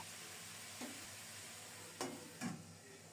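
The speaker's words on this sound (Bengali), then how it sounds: "একটু সময় নিয়ে খুব সুন্দর মতো ভেজে নেব" Potatoes and cauliflower fry quietly in a pan, a soft low sizzle with a few brief stirring scrapes, faint and without voices.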